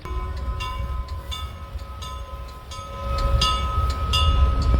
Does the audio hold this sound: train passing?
yes